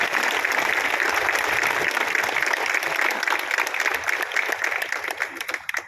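Audience clapping at the opening of a Shiv Sena campaign office, a sustained dense burst of applause from a gathered crowd that thins and fades toward the end.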